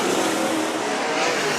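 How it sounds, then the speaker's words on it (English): Race cars roaring around a dirt-style oval track at a local feature event, a steady loud wall of engine noise with cars pressing close together, no talk over it. "Jacob Poole stalking the 21 of Wilson."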